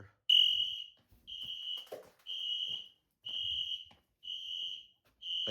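An ES-50X fire alarm sounds during a system test, mounted on a bad back box: six loud, near, high-pitched tone bursts pulse in a steady on-off pattern, with brief quiet gaps between them.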